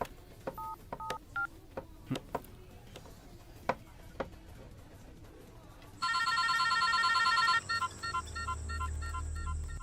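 A series of phone keypad tones and clicks as a number is dialed, followed by a loud ringing tone, with a low rumble near the end.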